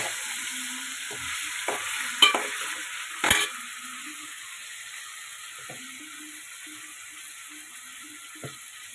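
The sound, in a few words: sautéing prawn thokku in a pan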